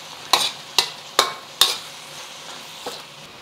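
Beef and onions are stir-fried in a pan, heard as four sharp, evenly spaced spatula strokes close by, then a fainter fifth stroke over a low sizzle.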